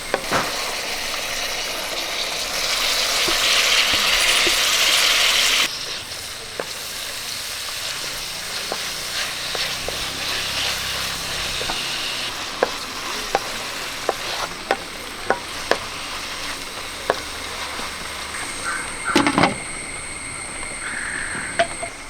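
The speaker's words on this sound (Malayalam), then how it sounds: "നമുക്ക് തുറന്ന് ഒന്ന് ഇളക്കി കൊടുക്കാം" Onions frying in a pan while being stirred, with a steady close sizzle, a burst of louder hissing early on, then scattered scraping clicks of a spoon against the pan.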